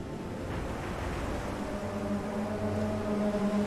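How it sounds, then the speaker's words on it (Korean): Rushing water from a whale-shaped water installation in New York at night makes a steady, broad wash like surf breaking, with a low mechanical hum running underneath. No one speaks. "진짜 파도가 치는 것 같아."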